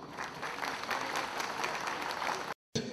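An audience applauding at an opening ceremony in Malatya, a steady wash of many hands clapping that cuts off abruptly near the end.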